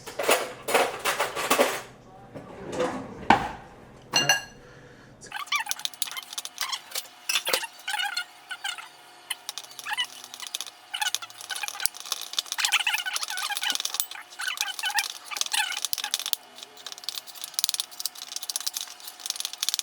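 A spoon stirring cinnamon roll filling in a bowl, quick repeated scraping and clinking taps that run steadily for most of the stretch after a few louder knocks at the start.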